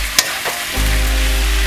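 Pancit canton noodles stirred and fried in a hot pan give a loud, steady sizzle with a short scrape of stirring, close up and with no talking.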